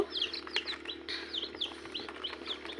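Tiger chicken chicks peep in quick, high, repeated chirps close by, with a faint steady hum underneath.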